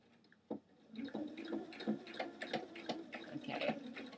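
A sewing machine slowly stitches across a thick pant side seam during a length alteration, giving an uneven run of close, fairly quiet mechanical thumps and whirs after a single sharp knock near the start.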